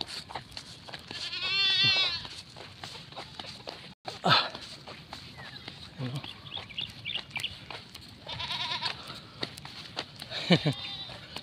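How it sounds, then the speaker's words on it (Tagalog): Goats bleat several times, close by, among farmyard noise and a sharp knock at an early-morning gamefowl farm, with people talking quietly in the background. "May kambing dito."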